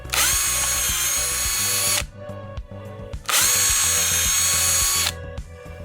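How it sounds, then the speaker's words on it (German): Cordless drill driving Torx screws into a knobby mountain bike tire to make studded winter spikes, two loud sustained whirring bursts of about two seconds each with a short pause between, close and without talk. "dann schraubt man genau dort die Schrauben rein"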